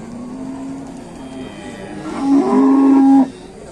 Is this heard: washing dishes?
no